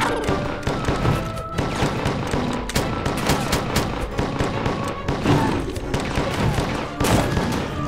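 Rapid gunfire from an alien shooter video game plays in dense, continuous bursts with explosive thuds, while a player talks excitedly over the din.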